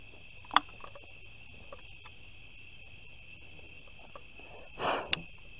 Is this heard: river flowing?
no